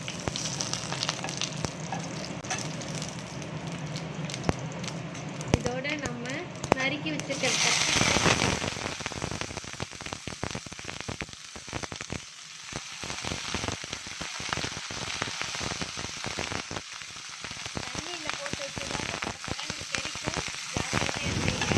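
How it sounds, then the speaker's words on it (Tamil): Dense crackling and popping of mustard seeds in hot oil, loud and continuous, with a sizzling surge partway through as more ingredients hit the pan; a voice speaks at times. "கடுகு நல்லா வெடிக்க ஆரம்பிச்சிருச்சு"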